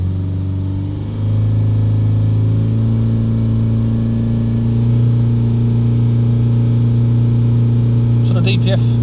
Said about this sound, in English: Let's hold the revs up a little bit.